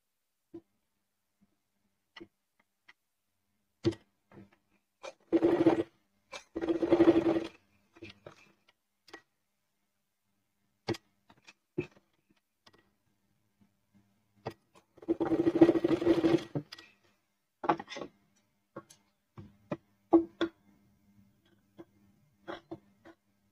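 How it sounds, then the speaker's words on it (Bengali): A sewing machine stitching the border of a box-pleat frock, two bursts of rapid mechanical whirring amid scattered clicks and handling noises in a quiet room. "পাড়াটি আমি প্রথমে সেলাই করে নিই"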